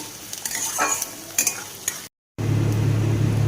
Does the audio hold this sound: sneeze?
no